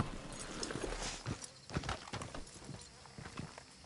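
A horse's hooves clip-clop at a walking pace in the game Red Dead Redemption 2, a series of distinct close thuds in irregular rhythm, fairly quiet and alone with no talking.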